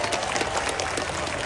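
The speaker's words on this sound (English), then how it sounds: "How about a big round of applause for Pepper again?" An audience at a zoo seal show claps in a continuous wash of applause, fairly even and moderately distant, with no speech over it.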